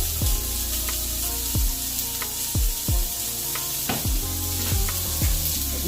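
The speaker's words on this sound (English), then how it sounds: "I'm gonna build everything in this cast iron pan. So I'm gonna get my white onions in there." White onions sizzle and fry in grapeseed oil in a cast iron pan, a steady close hiss broken by repeated sharp scrapes and stirs, with no voices.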